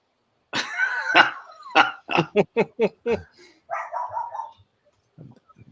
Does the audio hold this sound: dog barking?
yes